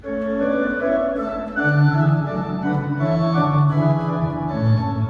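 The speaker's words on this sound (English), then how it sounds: "Let's try the caribel flute." A Yamaha PSR-SX900 keyboard plays its soft, breathy caribel flute voice in a slow melodic line with sustained notes, near and clear.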